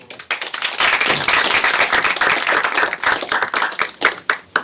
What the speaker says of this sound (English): let's give a round of applause for Bill